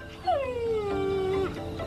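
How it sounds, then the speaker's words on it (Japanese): A legendary creature's cry resembling a puppy's, a single drawn-out whimpering whine that slides downward and holds, close and clear with no talk. "子犬の声に似ていた。"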